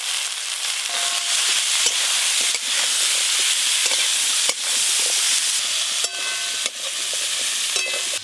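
Cut cauliflower frying in a pan, a loud continuous hiss and sizzle close by, broken by repeated sharp scrapes and knocks of a utensil stirring the pieces.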